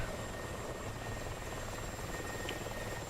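A Mi-24 attack helicopter in a multiplayer video game drones steadily at moderate distance, its rotor and engine noise a constant low hum with no talk.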